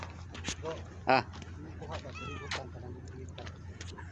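Cats at play give a few short, close meows and one louder cry among light rustling, with a person talking softly nearby.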